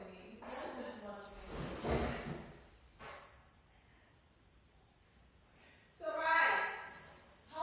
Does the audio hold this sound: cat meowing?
no